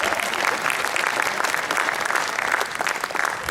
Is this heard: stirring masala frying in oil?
no